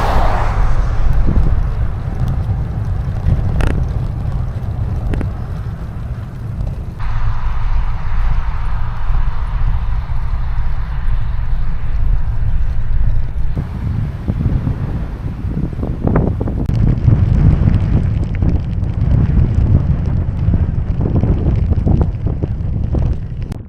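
Gale-force wind gusts buffet the microphone on a Scottish coastal road between Inverness and Ullapool, a loud, continuous low roar with surging peaks throughout.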